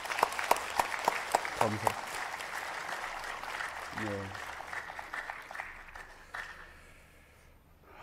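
Warm applause rises in a provincial council chamber for members who are resigning, many hands clapping steadily and fading out over several seconds, with brief spoken replies from people in the room.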